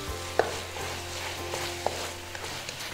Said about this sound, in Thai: ตัวนี้คุณครูจะผัดไปสักครู่นึงให้เขามีความสุกนะ